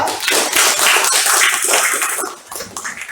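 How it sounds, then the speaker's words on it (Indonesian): A high-school class applauds a student group, a dense burst of clapping that carries on loudly before thinning into scattered claps near the end. "silakan tepuk tangan untuk kelompok 2."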